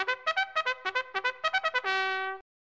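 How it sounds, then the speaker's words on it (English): A trumpet plays a quick run of short, bright staccato notes, then holds one long final note before cutting off, loud and clear on its own. "A trumpet."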